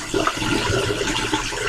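Hot water pouring out in a steady, rushing stream, close and fairly loud, continuing with no break for under two seconds.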